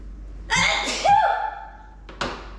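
A loud sneeze bursts out close by in a shopping mall, followed by a brief trailing vocal sound and a short sharp intake of breath.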